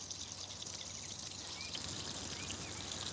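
A hose pours water steadily onto a garden on a hot day, a continuous hissing splash with faint birdsong in the background.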